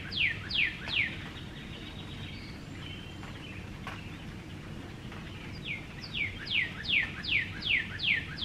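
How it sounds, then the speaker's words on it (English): A songbird sings outdoors in bursts of quick repeated chirping phrases, a few notes at the start and a longer run near the end, over steady low background rumble. "Hear that bird is so pretty."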